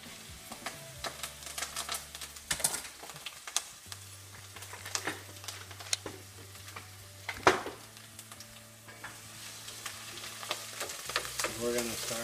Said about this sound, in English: we're going to start sauteing this, get a little color on it